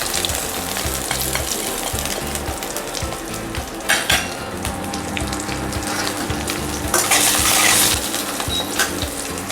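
Mustard seeds, curry leaves and green chilies sizzle and fry in hot oil for a dhokla tempering, a dense continuous crackle with sharper popping bursts near the middle and again toward the end.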